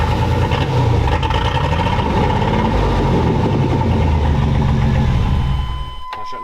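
A scrap yard Chevy engine with a suspected bad fuel pump relay runs steadily and loudly up close, a constant low rumble that holds for several seconds before dropping off abruptly near the end.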